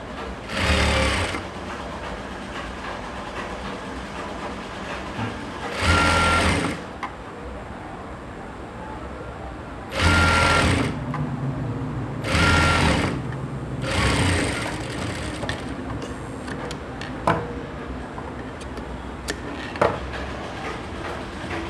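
A sewing machine stitches a three-layered ruffled lehenga skirt in several short, loud whirring bursts, with quiet pauses between them.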